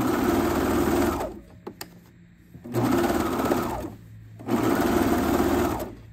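A serger sewing machine cuts and stitches the hem of a pair of shorts in two loud, whirring bursts separated by a short quiet pause, then starts a third run.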